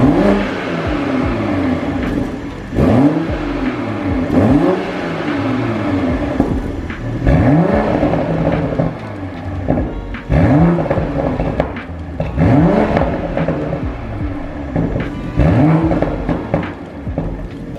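A Toyota A90 Supra with a limited edition full titanium Remark exhaust, raised on a lift, revs repeatedly in sharp bursts roughly every two seconds, the engine climbing and dropping with a rumbling idle between, close and loud.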